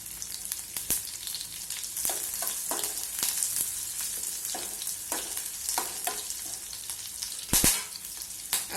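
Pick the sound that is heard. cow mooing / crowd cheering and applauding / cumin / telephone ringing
cumin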